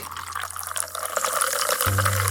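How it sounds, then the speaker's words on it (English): Tonic water pours into a glass with a steady, close splashing and fizzing rush. A low hum runs beneath it and grows stronger near the end. "Then, pour 3 ounces of tonic."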